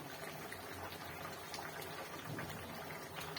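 A pot of chicken curry for a Kolhapuri recipe simmers at a steady rolling boil, a soft continuous bubbling and crackle held at a low, even level throughout.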